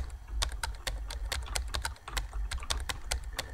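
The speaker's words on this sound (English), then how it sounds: "I don't know if you can hear me typing." Random typing on a computer keyboard, a steady stream of close, crisp key clicks in an uneven rhythm over a low background hum, with no speech.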